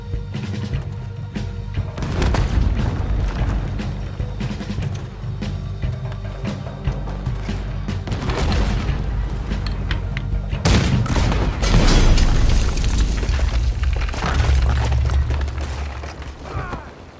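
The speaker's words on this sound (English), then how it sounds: "there's another cannon up ahead on our left" Cannon fire booms in Red Dead Redemption 2 on board a ship, with loud, dense blasts and crackling bursts filling the whole stretch and a heavier explosion midway, while voices talk over the din.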